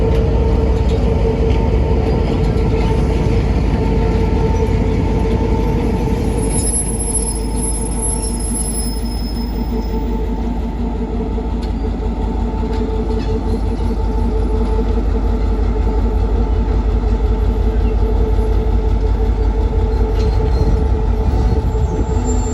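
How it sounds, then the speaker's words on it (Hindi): A Pakistani diesel locomotive shunts at Faisalabad railway station, its engine throbbing loudly and steadily throughout, with rail clatter and a brief high wheel squeal over the constant rumble. "GMCU 15 49-27 शंटिंग पर मसरूफ़ है फैसलाबाद रेलवे स्टेशन पर।"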